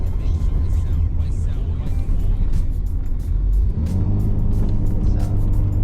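Loud, continuous engine rumble of a Mercedes S320L heard from inside, with the revs climbing partway through as the car accelerates.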